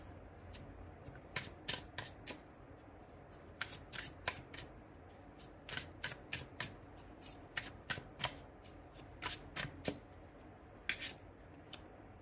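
A tarot card deck is shuffled by hand, giving quick, crisp riffling bursts repeated in uneven clusters, close up against a quiet room.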